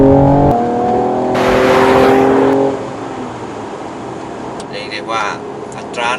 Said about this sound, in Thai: ใช้เท้าซ้ายเหยียบเบรกครับ พร้อมเท้าขวาเหยียบคันเร่งครับเตยมตัวครับ ไป โอ้โห กระชากเลยครับ